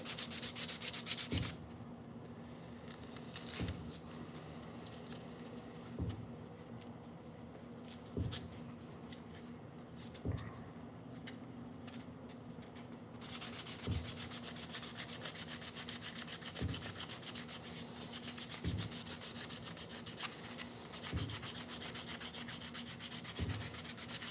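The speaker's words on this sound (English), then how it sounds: "You want to sand back into the wood." Hand sanding of a wooden slingshot with 220 grit sandpaper, a steady close rasping rub in long back-and-forth strokes with regular soft knocks every couple of seconds, quiet and alone.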